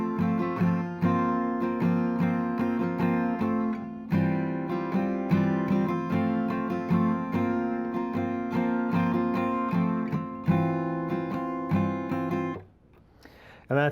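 Acoustic guitar strumming a song at normal speed, full chords ringing steadily for about thirteen seconds, then stopping abruptly into near silence, played alone with no talking.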